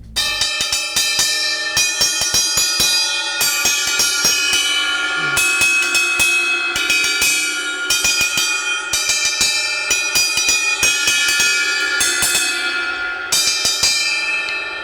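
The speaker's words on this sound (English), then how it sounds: "the sound of the bell gives you your cymbal" Cast cymbal bell from a Ufip cymbal struck repeatedly in a steady series of hits, each a bright, sustained metallic ring that overlaps the next, loud and close with no talk.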